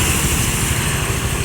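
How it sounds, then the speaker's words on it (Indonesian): A tour bus on an Indonesian road rumbles past with a steady, loud engine drone and road noise filling the whole moment, with no voices. "Masuk lagi bus pariwisata ini"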